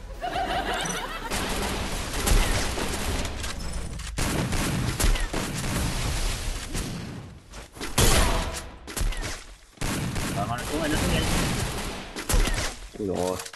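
Rapid bursts of gunfire from a shooting video game crackle loudly and repeatedly, broken by brief pauses, with a player talking over the shots.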